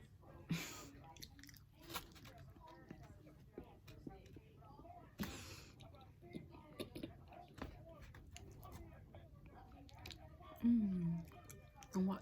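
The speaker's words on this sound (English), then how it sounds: "And watch me eat." Close, quiet biting and chewing of food in a mukbang-style ASMR eating session, scattered crunchy bites and soft mouth sounds spread across the stretch, with brief murmurs and a short vocal sound near the end.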